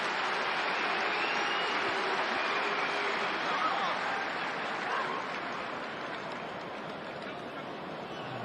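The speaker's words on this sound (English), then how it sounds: "Some applauding. There are boos as well around Celtic Park." A football crowd at Celtic Park reacts during a preseason match against West Ham, with broad, distant applause mixed with boos as a steady roar that fades slightly, while a commentator talks over it.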